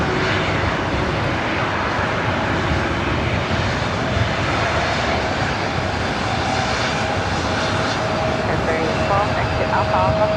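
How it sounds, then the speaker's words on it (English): A Boeing 747 jet taking off on the south side of LAX, a steady, loud engine roar held throughout at a distance, with radio chatter from air traffic control running beneath it. "We still got the Queen taking off on the south side."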